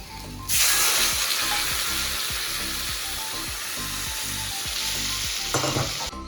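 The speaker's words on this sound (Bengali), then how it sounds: "এটা হচ্ছে আলু ভাজা হচ্ছে" Potatoes fry in a hot pan with a loud, steady sizzle that begins abruptly and continues without pause, over a low repeating rhythmic knock.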